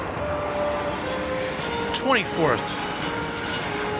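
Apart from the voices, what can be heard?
UPS Airbus A300 plane at DFW Airport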